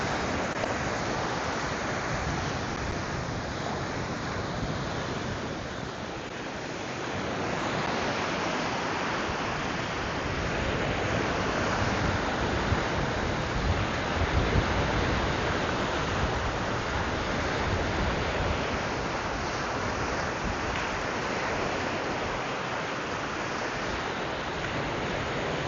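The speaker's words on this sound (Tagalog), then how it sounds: "Taas ng alon mga par." High ocean waves crashing on a Canadian shore, a dense, loud, continuous roar of surf with slow swells of intensity, no voices.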